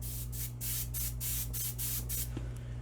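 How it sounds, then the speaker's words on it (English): An airbrush spraying paint, fed by a compressor set to about 28 psi, lets out roughly seven short, close hissing bursts in an even on-off rhythm over a steady low hum. "We'll get the right hand airbrush first."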